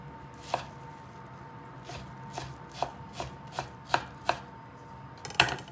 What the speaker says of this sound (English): I'm gonna just give this a nice chop.